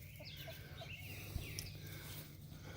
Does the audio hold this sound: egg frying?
no